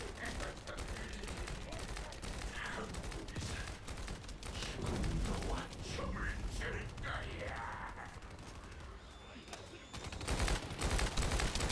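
Rapid bursts of video game gunfire clatter almost continuously, with mechanical clicks and dense shot transients that swell louder toward the end.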